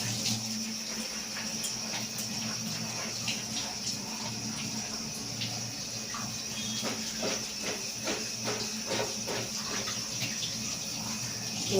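Ivy gourd is washed under running water, a steady close hiss of the tap with scattered splashes and clinks throughout.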